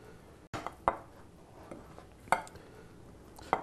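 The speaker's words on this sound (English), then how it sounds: "what's involved here is cutting it into about 3/4 inch pieces" A knife chops vegan sausage into roughly three-quarter-inch pieces on a cutting board, giving a few sharp, separate clacks of the blade striking the board at uneven intervals, close and crisp with no talk.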